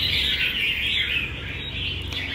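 Oriental magpie-robins sing in competition, a dense continuous stream of bright chirps and warbles held steadily close and loud for the whole stretch, with no voices.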